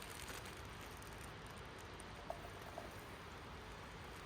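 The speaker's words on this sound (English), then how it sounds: "Potatoes are sizzling away nicely on the new skillet" A soft, steady sizzle of potatoes frying in a skillet at a winter campsite continues evenly, with a couple of tiny pops, quiet and close.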